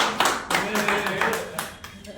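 A small audience claps at a live mind-reading show, a dense patter of hand claps that swells in bursts and fades, with voices talking over the applause throughout.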